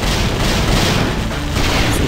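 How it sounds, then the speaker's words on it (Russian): Explosive barrels blow up on the road in a carnage driving video game, a dense, loud burst of booming blasts that fills the short moment. "Жуткие взрывные бочки."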